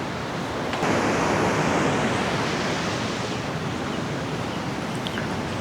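Sea waves wash steadily onto a rocky shore at General Nakar, Quezon Province, making a continuous, loud broadband rush with a slight swell near the start and no voices.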